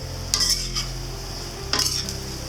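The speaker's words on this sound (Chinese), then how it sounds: "翻炒均匀，只需少许生抽调味，无需再添加任何调味料。" Whitebait and egg fried rice stir-fried in a wok, with a soft steady sizzle under two brief metallic scrapes of the spatula against the wok.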